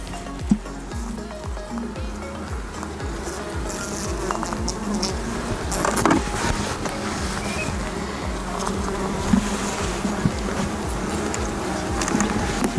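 Honeybees buzz steadily at an opened hive during a colony inspection, a dense close-up drone that runs without a break across the whole stretch, with faint handling noises and no talk.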